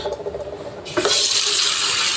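Water gushes from a tap into a washbasin, starting abruptly after a few faint knocks and running as a steady, close, bright hiss.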